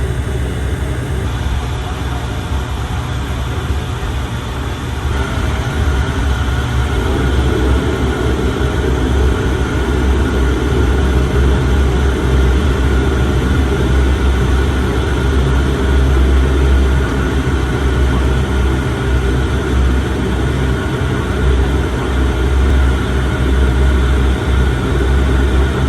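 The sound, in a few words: Dash 8 turboprop airliner taxiing at Brisbane Airport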